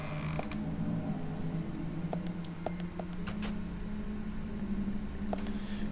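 A door opening in the video game Deadly Premonition gives a drawn-out creak with scattered clicks and ticks over a low, steady background hum.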